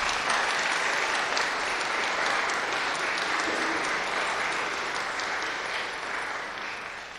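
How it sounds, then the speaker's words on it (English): Audience at a 9/11 memorial ceremony applauds after a sung prayer, a broad sustained wash of clapping from a large crowd that slowly tapers toward the end. "And yes, it's okay to give them a round of applause."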